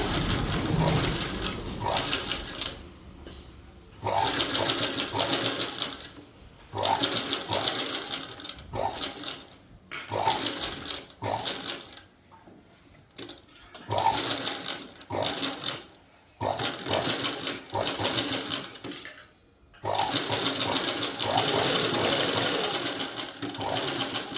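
Domestic sewing machine stitching piping onto the main cloth of a garment, running in bursts of rapid mechanical whirring with short stops between runs, close up; faint talk may sit underneath.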